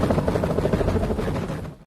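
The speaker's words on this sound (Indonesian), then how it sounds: "Ray sampai diikuti helikopter" A film chase scene carries a loud helicopter thrumming steadily overhead with a pulsing rotor beat. It lasts under two seconds and cuts off abruptly at the end.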